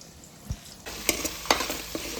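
Green paste fries in hot oil while being stirred, a steady sizzle with a few sharp scraping stirs and clinks against the pan, close and fairly quiet with no voices.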